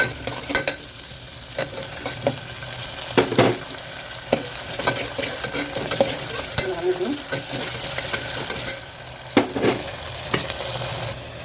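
Onion and garlic sautéing in a pan for tomato rice, with a constant close sizzle broken by frequent sharp scrapes and clanks of a spatula stirring against the metal.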